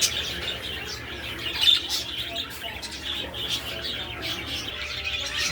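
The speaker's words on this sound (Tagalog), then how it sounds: "ating mga alagang parakeets" Pet parakeets chirp continuously in a busy, overlapping chatter, close and fairly loud, during hot weather.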